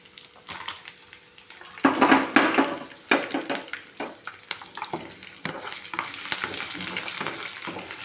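Garlic and curry leaves crackle in hot oil as tempering for a red chilli pickle. A loud, bursting spatter rises suddenly, then settles into an uneven, popping sizzle with occasional stirring knocks.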